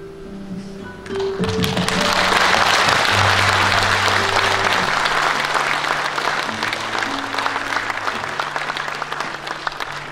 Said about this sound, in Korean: 큰 박수를 맞이해 주시기 바랍니다.